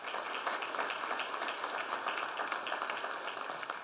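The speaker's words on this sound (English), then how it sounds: "Can we give them a round of applause?" Sustained applause from an audience at a police department fallen officers tribute in Prince William County, a dense, even wash of many hands clapping that holds steady at moderate distance throughout.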